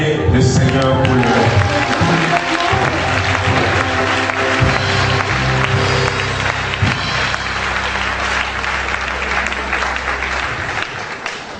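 A church congregation at an anniversary service claps in long sustained applause, a dense loud roar of hands mixed with cheering voices and music-like tones, gradually easing toward the end.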